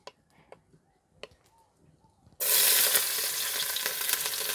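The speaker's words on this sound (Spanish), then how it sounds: "Si ya está bien caliente el aceite, ya lo voy a poner a echar ya el chile." Dried chile drops into hot oil in a clay cazuela and bursts into a loud, steady sizzle after a few quiet clinks, the frying crackle continuing strongly to the end.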